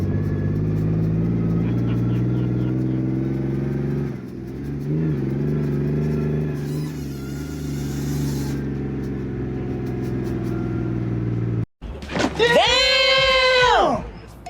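A steady low mechanical drone from a Kenworth W Model truck's differential while moving, with a brief dropout near the end followed by a rising and falling whine.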